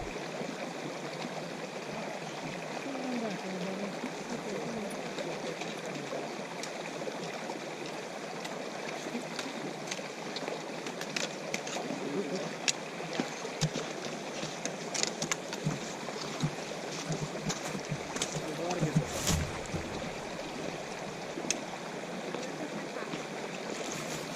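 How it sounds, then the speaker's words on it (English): Stream water rushes steadily at a trail water crossing in a continuous broadband wash, with occasional small splashes and knocks nearby. "we're at the first water crossing. And there is a ton of water here."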